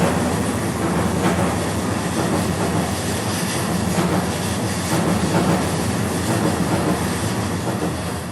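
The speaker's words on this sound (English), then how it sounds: "gonna wait for this train to pass." A train rolls past over a bridge on nearby tracks, a loud, steady rumble with clattering wheels that holds for the whole stretch.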